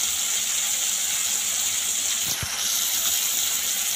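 Cumin seeds dropped into hot oil with mustard seeds and tomato give a loud, continuous hiss and sizzle, with a brief sharper burst midway and no talk.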